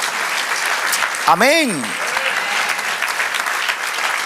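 A church congregation claps steadily throughout a worship service, a continuous patter of many hands, while a voice briefly calls out over it partway through.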